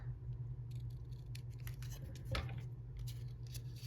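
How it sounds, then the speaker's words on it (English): Scissors trimming paper for a junk journal, a series of crisp close snips and crinkles coming in quick irregular bursts, quiet overall, with a low steady hum underneath. "I'm just going to trim off a little bit on each side like this"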